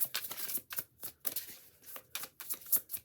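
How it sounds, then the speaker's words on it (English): Tarot cards being shuffled in quick, repeated riffling bursts, close and crisp, with short pauses between each round. "I'm shuffling for so long"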